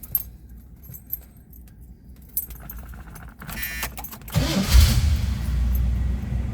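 Keys jangle, then a 1979 Pontiac Trans Am V8 cranks and catches, settling into a loud, steady idle close by, with no talk.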